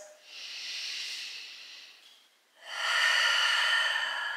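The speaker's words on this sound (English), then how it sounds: "Deep breaths." Deep breathing during a vinyasa yoga flow: a long, airy inhale-like hiss fades out, then after a brief pause a stronger, steady breath sound follows, close and alone with no talking.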